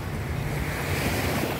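Gentle ocean waves wash onto a beach in a steady, continuous rush with wind buffeting the microphone. No voices are heard.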